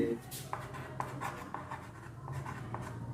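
Chalk or marker writing on a board in a classroom lesson, soft scratchy strokes and taps heard under a man's ongoing explanatory speech.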